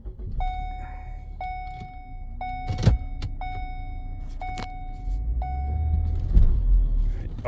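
Car with a failing transmission being shut down and restarted: a warning chime repeats about once a second, sharp mechanical clunks land at intervals, and a low engine rumble swells near the end, close and without talk.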